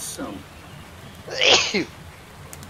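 One sharp sneeze bursts out close to the mic during a tabletop role-playing game session, brief and loud against quiet room noise, with a short spoken remark just before it.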